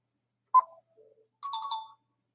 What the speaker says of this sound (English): Bandages. Yeah, it's bandages. It's obviously bandages.